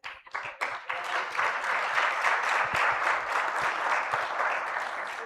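A workshop audience claps in honor of the session coordinator, starting with a few scattered claps that quickly swell into sustained, dense applause from a room full of people, steady and fairly loud throughout.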